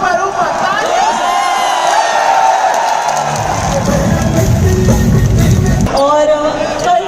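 A large stadium crowd at an entrepreneur event cheers and roars continuously, a dense swelling wall of voices and clapping with whoops rising over a brief spoken shout.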